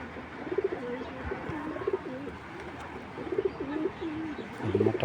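Racing pigeons coo in repeated rolling, throaty phrases, several birds close by, with the calls swelling and fading in a steady rhythm over a soft background hum and no speech.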